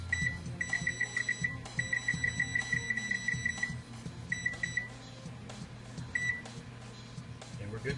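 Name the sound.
kitchen timer being set for muffins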